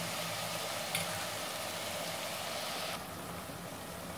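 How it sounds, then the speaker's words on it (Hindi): Mutton keema frying in a pan for a Sindhi-style curry: a steady, close, broadband sizzle with a faint low hum underneath, easing slightly in level toward the end, with no voices. "पांच दस मिनट के लिए इसे भी भूनेंगे कीमे को भी"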